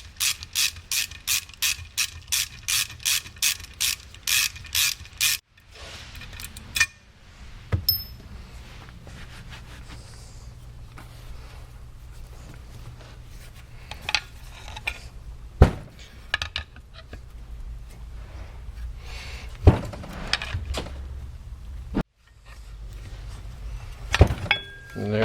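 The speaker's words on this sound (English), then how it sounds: "So we're going to need to pry it out of there." Metal ratcheting and prying on a Land Rover Discovery Series II power steering pump stuck tight in its bracket: rapid regular clicks at first, then scraping, clunks and sharp knocks, close and loud.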